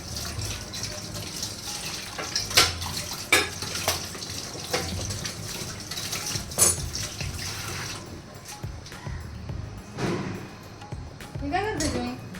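Water runs steadily from a tap with a few clinks of dishes, while a person talks over the flow.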